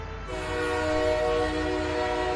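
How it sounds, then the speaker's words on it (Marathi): A train rumbles in close by, its loud steady horn-like tone sustained over heavy rolling rail noise, with no talking. "रेल्वे आली आणि आमचा रात्रीचा प्रवास सुरू झाला."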